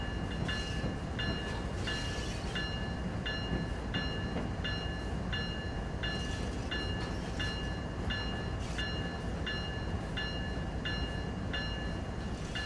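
An intermodal freight train rolls past in the Train Sim World 3 simulation on Cajon Pass, with a steady rumble and a regular repeating clatter of wheels over rail joints throughout, loud and continuous.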